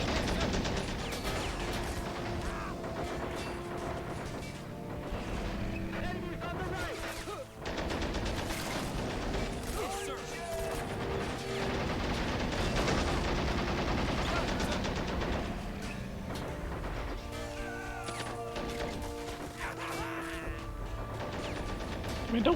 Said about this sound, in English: there's a lot of machine guns on it.